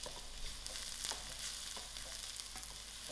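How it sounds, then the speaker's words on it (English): Onions and crushed garlic sizzle steadily in a pan while being stirred, the frying a constant low hiss with light scraping strokes, quiet and close, no voices. "I'm going to put in my crushed garlic and give this a nice mix"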